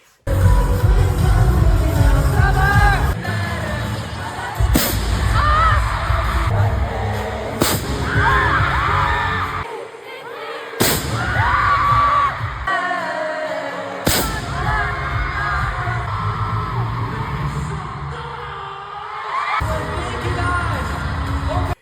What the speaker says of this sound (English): They would shoot up confetti, and it would scare the shit out of me because the confetti cannon was right in front of us.